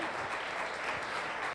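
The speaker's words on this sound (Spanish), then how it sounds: "Dele fuerte ese aplauso al Señor." Church congregation applauding at an evangelical Spanish-language general meeting, a steady dense wash of clapping from a crowd at moderate distance with no break.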